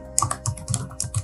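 Keys clack on a computer keyboard in a quick irregular run of about eight close, crisp taps over a faint steady hum, with no talking, while DNS server settings are configured on Ubuntu Linux.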